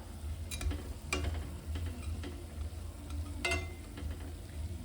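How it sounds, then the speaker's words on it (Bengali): Rice dough balls frying in oil for Anondo Naru, a Bengali festive sweet, with a steady low sizzle and a few sharp scraping clicks as they are stirred around the pan. "এইভাবে নেড়ে নেড়ে ভালো করে ভেজে নেবেন।"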